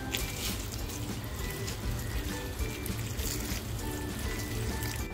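Water poured over tirphal set to soak for a Malvani mackerel tikhle, a steady faint trickling and splashing that runs on without a break and without talk.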